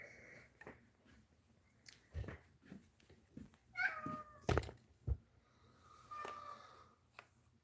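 A cat meows several times close by, with a few drawn-out cries separated by soft snuffling and shuffling noises in a quiet room.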